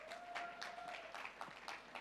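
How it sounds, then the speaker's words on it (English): Conference audience applauding at an entrepreneurship event, a faint, steady patter of clapping from a crowd in a hall, brief and even throughout. "Can we just applaud them, please?"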